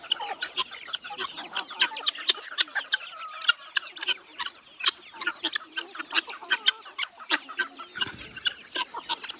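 A flock of free-range native desi chickens on a half-acre open farm clucks in a dense, overlapping chorus of short calls, close and lively, with no voices.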